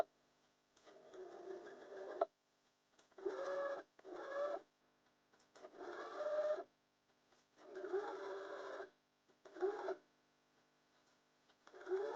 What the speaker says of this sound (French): Et nous allons coudre le passepoil au tissu comme ceci.